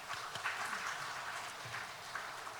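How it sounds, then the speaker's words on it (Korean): A church congregation claps together after a returning member stands during a Sunday worship service, a steady, dense patter of many hands that runs the whole time at moderate, fairly distant volume. "박수하겠습니다."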